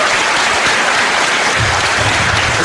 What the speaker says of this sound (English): we give him a round of applause for being reasonable and polite